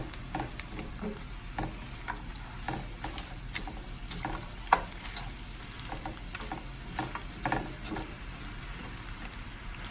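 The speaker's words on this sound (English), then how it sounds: "So all you have to do is like fold it in just to make sure all the egg mixes in there." Egg is folded into chilaquiles frying in a pan, with a low sizzle beneath repeated scraping and clinking stirs of a utensil against the pan, fairly quiet, with no voices.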